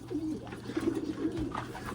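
White homing pigeons coo in low, repeated throaty bursts close by while flying birds move around a loft trap, a steady soft murmur of cooing throughout with faint rustling.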